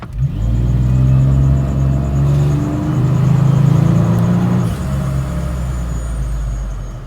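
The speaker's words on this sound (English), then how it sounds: "So I'm going to do a first gear pull, see what the torque and power is like in first gear." A supercharged Jeep Wrangler JK pulls hard in first gear, its deep engine rumble rising steadily in pitch under load, loud and close from inside the cab, then easing as the revs drop near the end.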